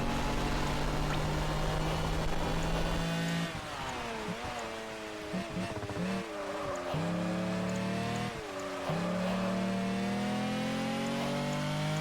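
A race car engine in Project Gotham Racing 4 on the Xbox 360 drones loudly and steadily throughout, its pitch dipping and climbing through gear changes and braking. No voices are heard.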